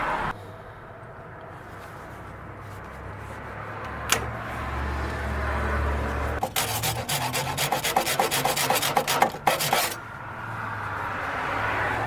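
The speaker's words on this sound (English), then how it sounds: "I'm going to use a pair of side cutters and a hacksaw to get it undone." A hacksaw cuts through a parking brake cable on a Honda Accord during a drum to disc brake conversion, first with a dull rubbing scrape, then with a quick run of rasping back-and-forth strokes near the end.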